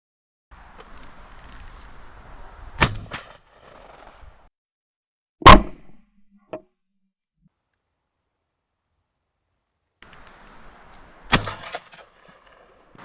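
Shotguns fire at crows outdoors: three loud, sharp blasts with a fainter crack after the second, spaced several seconds apart, with quiet wind noise in the gaps.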